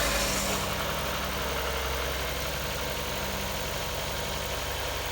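A freshly rebuilt car engine fires up and settles into a steady, loud idle, its low rumble and vibration continuing evenly with no voices over it.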